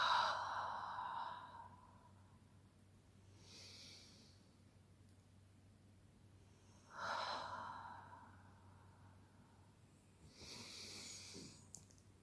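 Slow, deep breaths come in a calm breathing exercise: a few long inhales and exhales spaced several seconds apart, soft and close, with no talking.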